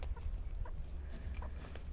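Chickens cluck softly and intermittently at a distance outdoors in the late afternoon before going into their coop for the night, with faint low background rumble.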